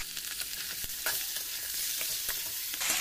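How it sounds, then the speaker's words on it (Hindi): Chicken fries with browned onions and potatoes in a pan, giving a constant hissing sizzle broken by the scrapes and knocks of stirring, close and alone with no voices. "प्याज के साथ अब चिकन को फ्राई कर लेंगे।"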